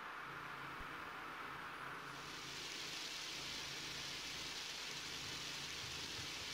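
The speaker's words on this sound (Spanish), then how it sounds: "bajo la lluvia" Rain falls steadily in the Undertale video game, a continuous soft wash that swells brighter and fuller midway, with a faint low hum underneath and no talking.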